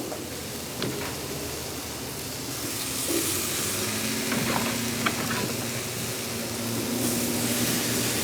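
Sweet potato slices sizzle and crackle steadily on a hot grill sprayed with oil, a continuous close frying hiss with occasional pops and no talking.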